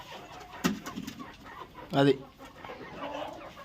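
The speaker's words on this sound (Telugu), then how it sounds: "ఎట్లా ఉన్నాయి కోళ్ళు?" Country chickens in a shed give a few short clucks and squawks, one sharp call early and a louder burst midway, while a person speaks briefly nearby.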